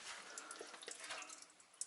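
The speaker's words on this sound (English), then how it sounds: "Water is draining nicely" Water drains in a newly installed utility sink with a soft, continuous trickle and gurgle, faint and close, with a small splash at the end.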